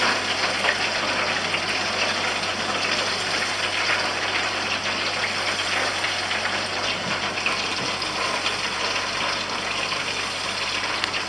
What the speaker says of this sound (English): So once we put it in, as you can see, it's going to over bubble